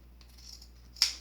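Scissors cut through snowsuit fabric during a leg cuff repair, with a quiet rustle of handling followed by one crisp, sharp snip close by.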